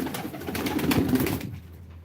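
Pigeons cooing at a live pigeon auction, a short burst of soft, low throaty coos close by that fades out after about a second and a half.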